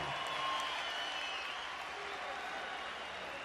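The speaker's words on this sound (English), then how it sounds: "how about a big round of applause for the effort out of these two warriors in the ring" Crowd applause at a boxing fight in a Las Vegas arena, a continuous wash of clapping and crowd noise heard from a distance at moderate volume, sustained evenly throughout.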